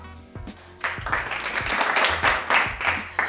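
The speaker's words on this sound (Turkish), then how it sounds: "O zaman bir alkış" A small group in a casual studio setting claps and laughs together, with bursts of hand claps that start loose and swell into uneven, fairly close applause mixed with laughter.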